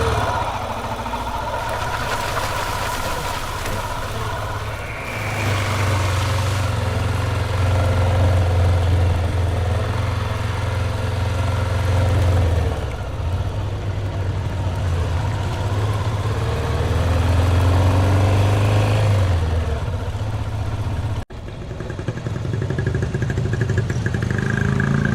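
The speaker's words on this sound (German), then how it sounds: "hier mal satter Einzylinder-Sound als Musikersatz" A single-cylinder enduro motorcycle runs steadily on an offroad ride to Armenia, a deep throbbing engine note that rises and falls in loudness, with a brief cut near the end.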